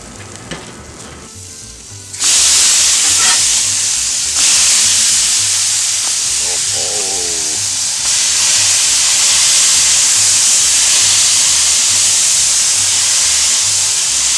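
Two smash tacos hit a hot griddle tortilla side down and burst into a loud, steady sizzle that starts suddenly after a short quiet lead-in and keeps hissing close up with no talking.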